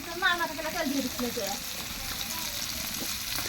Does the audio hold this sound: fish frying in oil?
yes